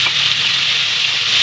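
Fish sizzles steadily in hot oil, a dense, loud frying hiss that holds without pause from start to finish.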